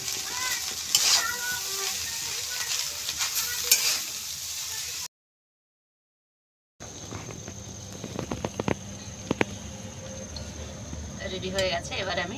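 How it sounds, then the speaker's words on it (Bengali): Egg chowmein with tomatoes being stir-fried in a kadai: a steady sizzle under repeated scraping and tapping of a spatula against the pan, close and fairly loud, cut by a short stretch of silence midway. "আর আমার বাকি ছিল টমেটো, এগুলো ভালো করে মিশিয়ে নিই"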